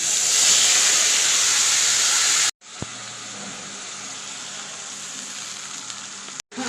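Ginger and onion paste frying with cumin in hot oil, a loud steady sizzle and hiss that cuts out briefly partway through and resumes.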